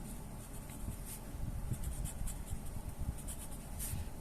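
A Kanwrite fountain pen with a broad nib, turned upside down, scratches continuously across paper in a soft, close, dry rasp, with small strokes and pauses in the texture and no talking.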